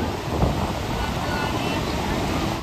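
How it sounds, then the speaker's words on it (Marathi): Rough sea waves churned up by rain pound a beach while wind buffets the microphone, producing a loud, continuous, unbroken roar of surf and gusting air. "लाट आहेत गाईज पावसामुळे"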